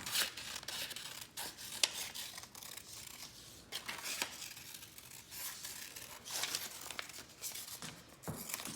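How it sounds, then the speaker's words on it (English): Scissors snipping out a paper bunny ear for an Easter Bunny craft: close, crisp crunching and rustling paper cuts in an uneven series of short bursts, with no talking. "I'll cut that last part out right now"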